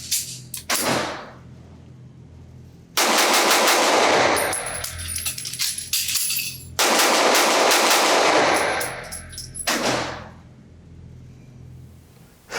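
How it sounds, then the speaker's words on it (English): A CZ 2075 D Rami subcompact pistol fires in short rapid bursts at a range, two loud strings of quick shots with ringing echoes and a few single shots before and after. "how fast can I shoot the gun in a short burst?"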